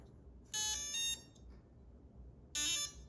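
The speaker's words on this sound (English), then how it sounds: "You heard the motor beep, so we are ready to go." Two bright electronic beep sequences from an RC car's brushless motor and ESC (SCX24 Jeep crawler), each a rapid series of high tones about half a second long, separated by a pause and over faint background hum.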